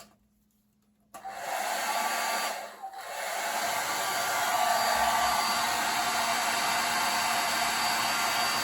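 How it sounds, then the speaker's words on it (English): A hair dryer used on a rusted object at a workbench switches on after a moment of silence, dips briefly, then roars steadily with a loud, even rushing whir. "So, back to the hair dryer."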